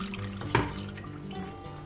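Water is poured into a bowl of wheat starch, a short splashing pour with a brief burst and soft liquid trickle, fairly close and quiet.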